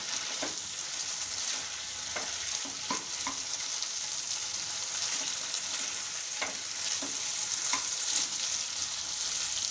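Broccoli manchurian fries in a hot pan with spring onion greens and fresh coriander, a steady close sizzle broken by several short scrapes of stirring and no voices.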